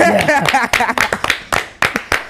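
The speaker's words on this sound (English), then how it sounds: "Give me a round of applause." Clapping on a podcast set, a few people's hands giving sharp, uneven claps, close and loud, following a brief voice at the start.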